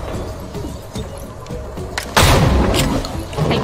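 A single loud gunshot booms in the tactical video game XCOM: Chimera Squad. The sharp blast lands about two seconds in, over a dense, rumbling game soundscape.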